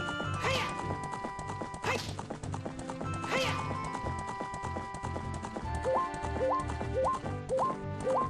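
Epona the horse gallops in The Legend of Zelda: Ocarina of Time, with steady clip-clopping hooves and repeated neighs over looping game music, mixed up close and loud.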